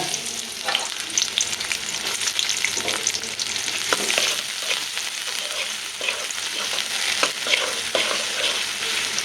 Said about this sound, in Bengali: আলুটি পেস্ট ভালো করে ভাজা ভাজা করে লই